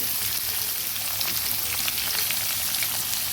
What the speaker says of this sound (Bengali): এবার এইটাকেও সাইড দিয়ে কিছুটা নেড়ে